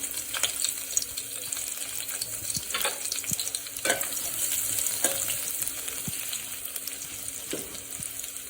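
Crushed garlic cloves, seven or eight of them, sizzle in about three tablespoons of hot oil in a pan, a steady bright crackle that runs throughout, broken by a few sharp pops and spatters and the scrape of stirring.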